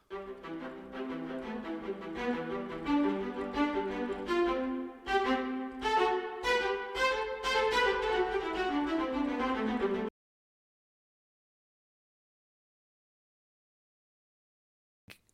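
Sampled orchestral violas from a virtual instrument library play a run of short, detached staccato notes in quick succession with added reverb, cutting off abruptly into silence after about ten seconds, followed by a tiny click at the end.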